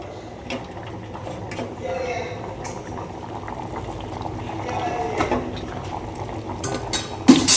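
Mutton curry bubbles steadily in a pot, a continuous soft simmering hiss close by, punctuated by occasional clinks of utensils against metal, with faint talk in the background.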